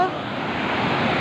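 Floodwater rushes past a nine-foot dike, a loud continuous broadband roar that stays steady and close for the whole moment.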